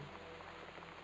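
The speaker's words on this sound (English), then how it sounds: "I do like the rain sound effects." Quiet, steady rainfall from the video game Gone Home, a soft hiss of drops pattering on a surface, brief and even.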